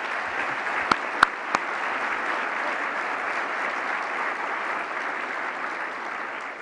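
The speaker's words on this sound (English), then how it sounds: "let's give them a big round of applause" An audience at a county government address gives a steady, sustained round of applause, dense even clapping from a large crowd with a few sharper claps early on, no talking over it.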